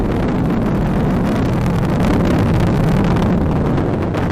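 An Atlas V rocket with its RD-180 engine roars during supersonic ascent, a dense, continuous broadband rumble with crackling texture, loud and unbroken throughout with no voices.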